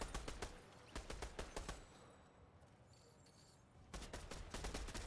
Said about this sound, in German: ein Schuss mit der neuen Pistole